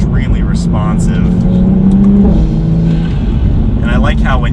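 2020 Toyota Supra A90 with an eight-speed gearbox, its engine accelerating as it drives, a steady loud engine drone with rising pitch that runs through the whole stretch while a person talks over it.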